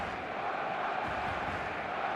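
Full stadium crowd in the football video game eFootball, a steady dense roar of many voices with no breaks, moderately loud throughout.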